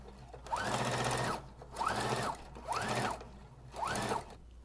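A sewing machine stitches a ruffle onto a dress in four even bursts of fast whirring, each about half a second to a second long with short pauses between, heard close and clear with no talking.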